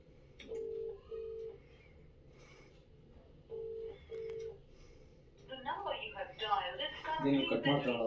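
Phone keypad tones as a call is dialed, two pairs of short, clear beeps separated by a pause, followed by people talking nearby.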